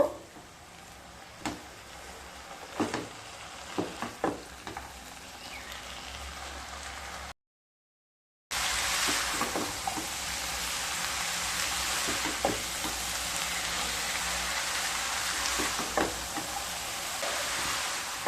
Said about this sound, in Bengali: লবণ দিয়ে খুব ভালো মতো মিশিয়ে নেব